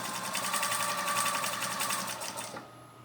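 A sewing machine stitches fleece sherpa blanket fabric in a fast, even mechanical whir with rapid repeating needle clicks, close and steady, then slows and stops near the end.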